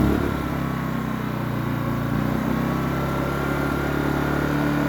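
A Pulsar PGD16ISCO 1200W inverter generator engine runs at a steady, close idle with a low, even hum and mechanical drone. It holds a constant level throughout with no voices.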